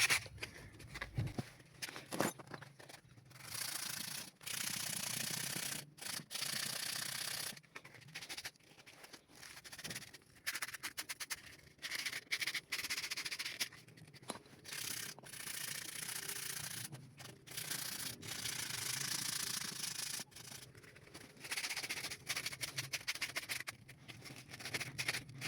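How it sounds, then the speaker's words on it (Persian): Sandpaper is rubbed back and forth over a wheelchair steering bolt to clean it for its bearings, close rasping strokes in irregular bursts with short pauses between, no talking. "این پیچه رو باید قشنگ سنباده کاریش کنیم ترتمیزش کنیم که راحت تو بلبرنگا بازی کنه"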